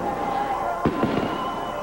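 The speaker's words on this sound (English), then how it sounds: "Now fireworks begin to go off on either side of the stage here at the start-finish" Fireworks at a NASCAR Winston Cup season-ending race celebration at the start-finish line, 1998 NAPA 500, a few quick cracking bursts over steady crowd and broadcast noise with a voice talking.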